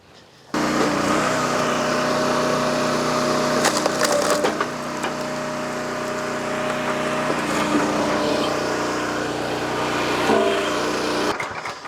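A log splitter with a 6-way wedge drones loudly on its small engine while a log is forced through, with cracking and splintering wood heard over the steady running noise.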